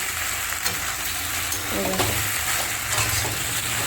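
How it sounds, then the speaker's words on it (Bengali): Pasta with egg, potato, carrot and onion cooks in a pan, crackling in a continuous close sizzle broken by a few stirring scrapes. "এই যে এখন সকালবেলা পাস্তা বসেছি ডিম দিয়ে আলু দিয়ে এই ডিম দিয়ে গাজর দিয়ে পেঁয়াজ দিয়ে"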